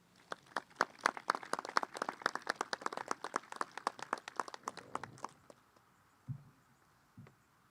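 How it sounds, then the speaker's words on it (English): Commencement audience applause at a college ceremony: dense, steady clapping from a large crowd for about five seconds, then it stops abruptly, leaving a couple of faint low thumps and quiet room tone. "Please join me in acknowledging the faculty's achievements with a round of applause."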